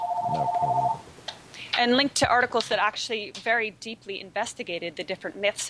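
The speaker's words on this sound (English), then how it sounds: "sorry about the phone in the background there" A telephone rings with a clear, steady electronic trill for about a second, then stops, and a person talks continuously over a room background.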